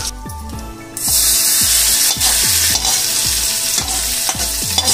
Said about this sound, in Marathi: आपण कढीपत्ता टाकूयात।